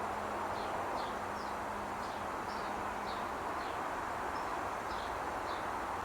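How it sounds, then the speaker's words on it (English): Birds near an outdoor feeder give faint, repeated short chirps roughly every half second, set over a steady hiss of outdoor background noise, with no talking. "All the birds are chirping over there."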